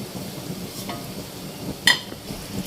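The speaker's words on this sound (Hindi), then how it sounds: "इसको मैं सेवइयों को इस ऑयल में थोड़ा सा फ्राई करूँगी" Broken vermicelli fries in oil for a sweet zarda dish, a soft steady sizzle under quiet stirring with one sharp metallic clink of a spoon against the pan.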